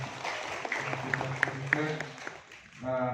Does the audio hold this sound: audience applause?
yes